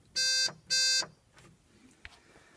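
Two loud electronic buzzes in quick succession, each about a third of a second, followed by quiet interior noise and a small click.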